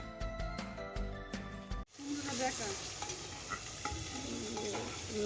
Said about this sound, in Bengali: এবার একটু মাংসটা কষিয়ে নিয়ে ওর মধ্যে কুমড়োটা দিয়ে দেব।